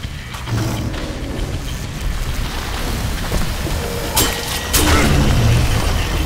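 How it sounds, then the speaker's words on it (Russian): Explosive booms burst from enemies in a fast action video game, a couple of loud blasts rising out of dense rumbling gunfire and effects noise near the end. "Ну видите, они еще после этого взрываются."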